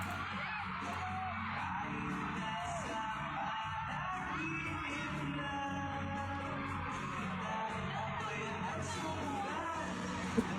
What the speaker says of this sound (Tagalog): Grabe ang sigawan nila.